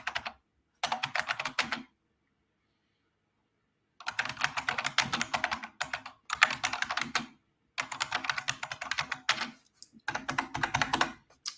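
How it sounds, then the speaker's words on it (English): Quick bursts of typing on a computer keyboard, close and crisp, come in several clusters separated by pauses, with no talking. "Sorry if my keyboard triggers you."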